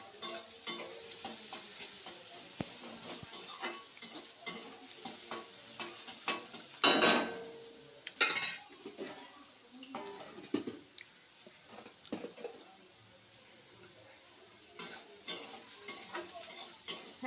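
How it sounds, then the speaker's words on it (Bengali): Onion frying in a pan for a rohu fish roe dish, with repeated scraping and clinking stirs of a utensil against the pan over a soft, steady sizzle; the sounds are close and come in irregular bursts, with no talking. "আর একটু ভাজা হবে পেঁয়াজটা।"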